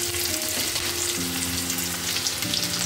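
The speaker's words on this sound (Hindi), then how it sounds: "जो हमने काट के रखी है लौकी ये हम डालेंगे इसके अंदर।" Onions and chopped bottle gourd fry in a pan with a loud, continuous sizzle and faint stirring, no voices.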